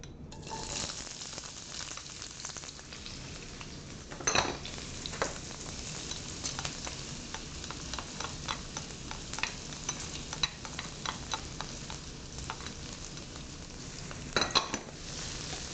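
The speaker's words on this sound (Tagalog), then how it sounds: "ang una po nating gigisahin ay ang ating sibuyas at bawang sa high heat" Onions and garlic sauté in avocado oil in a pan over high heat, a steady soft sizzle with occasional clinks and scrapes of a utensil stirring, no talking.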